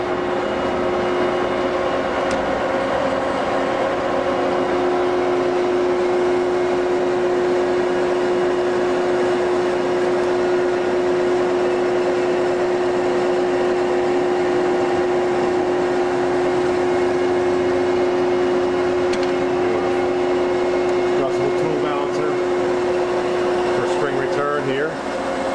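A 1971 Carlton 4A radial arm drill with a 6-foot arm and 19-inch column runs at its full 1,000 rpm, a steady loud mechanical whine and hum with a constant tone throughout, with occasional talk over it.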